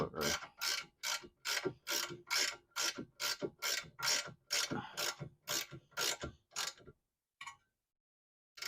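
A hand ratchet tightens the adjustable coilover sleeve on a Honda Acty fire van in about fourteen quick, evenly spaced clicking pulls, loud and close. It stops near seven seconds, leaving one faint click and then quiet.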